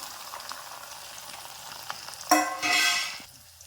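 Onion, ginger and soaked soybean frying in a pan, a steady low sizzle that bursts into a loud, bright hiss for about a second before settling again, with no talking.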